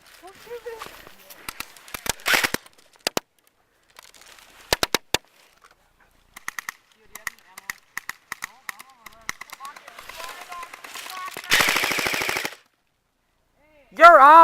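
Airsoft guns firing during a close-quarters battle game, with rapid automatic bursts and scattered single shots cracking at close range while players shout to each other.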